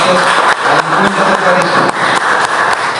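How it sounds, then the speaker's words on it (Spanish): An audience applauds at a Kichwa indigenous council inauguration ceremony with the Norte de Santander governorship in Cúcuta. The clapping is loud, dense and sustained, and a voice is faintly heard over it. "Vamos a dar un aplauso."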